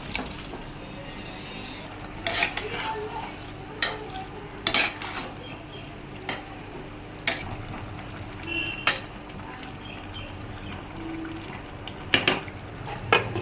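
Potatoes stirred into a frying jackfruit curry in a pan, a spoon knocking and scraping against the metal in scattered sharp clacks over a faint low sizzle.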